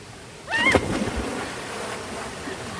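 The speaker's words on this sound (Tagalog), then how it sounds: "Ang lakas ng tilamsik ah." A sudden splash of water, loud and brief, followed by a trailing wash of rushing water and outdoor noise while hiking on Mt. Kulis.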